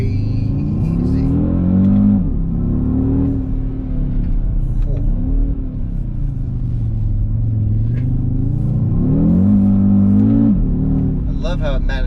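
An Audi RS Q3 engine pulls hard on a tight, twisty road. Its loud in-cabin drone rises and falls through repeated acceleration and gear changes, steady and close throughout.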